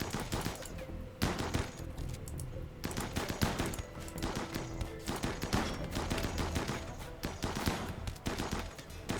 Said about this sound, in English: Please stop shooting my men.